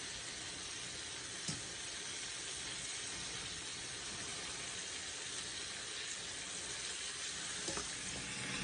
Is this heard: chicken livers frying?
yes